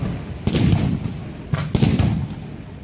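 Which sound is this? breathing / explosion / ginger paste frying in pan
explosion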